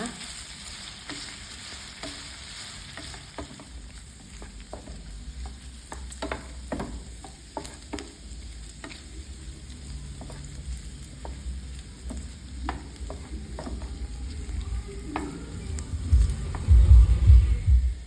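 Chinese sausage frying in a pan, a continuous close sizzle with scattered pops and crackles that build louder toward the end, with some low thumps of the pan being handled.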